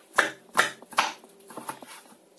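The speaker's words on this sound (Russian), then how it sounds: "и режу непосредственно кубиками." A knife dices onion into small cubes on a cutting board, three firm evenly spaced chops followed by several lighter taps, close and clear with no talking.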